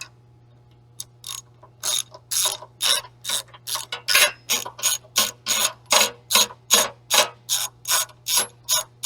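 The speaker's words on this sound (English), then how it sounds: "This is an 11/16 socket. We are going to remove that spark plug." A ratchet fitted with an 11/16 socket loosens the spark plug on a Honda GX200 small engine, producing about twenty close, crisp bursts of pawl clicking in a steady back-and-forth rhythm over a faint low hum.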